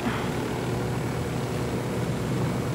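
An aircraft flies in the Ghost Recon Wildlands video game, giving a steady, moderately faint engine drone with no pauses, and no voices heard.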